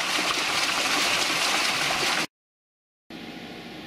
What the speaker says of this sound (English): water wheel's working good